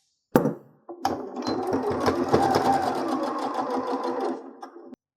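A domestic sewing machine stitches a seam on a fitted fabric face mask: a short burst, a pause, then a steady, close, continuous run of rapid stitching that stops abruptly.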